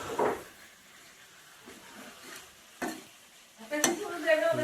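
Cumin powder and turmeric stirred in a frying pan for a local chicken curry: a few soft, scattered scrapes with faint sizzling, ending in a brighter clatter and scrape near the close.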